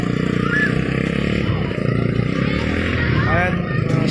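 Motorcycles ride through a deep flooded barangay street after the rain has stopped, their engines droning steadily up close under continuous talking, with splashing water and occasional clatter.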